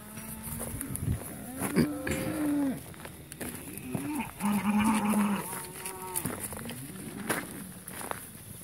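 Several cows moo in turn, long low calls, one close and loud, with shuffling hooves and movement around them.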